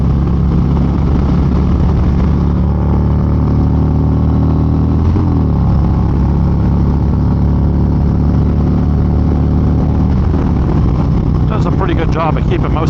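A Harley-Davidson motorcycle is being ridden, its engine giving a steady loud rumble mixed with rushing wind noise that continues unbroken throughout.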